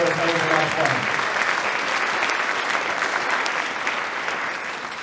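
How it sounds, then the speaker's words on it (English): Applause from a concert audience at a high school winter concert, following a brass choir of baritone horns and trumpets; a dense, steady clatter of clapping fills the hall for several seconds, with a few fading musical tones at the start. "Give them a round of applause for putting all that together"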